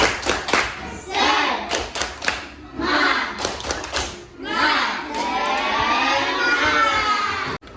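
Students in a classroom perform the rhythmic 'tepuk semangat' clapping chant, loud sharp claps in patterned bursts mixed with shouted chant syllables, ending in a longer sustained cheer.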